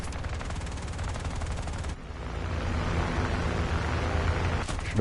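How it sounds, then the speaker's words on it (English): Aircraft cannons fire in War Thunder, a loud rapid burst of shots that cuts off briefly, then becomes a dense roaring stream of gunfire and engine noise. "Oh, cannons are up."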